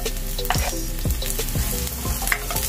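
Garlic for ginataang gulay sizzles loudly in hot oil, a dense continuous crackle with a few quick stirring scrapes, close up and without speech.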